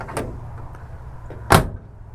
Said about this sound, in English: I want to show you actually how nice these doors shut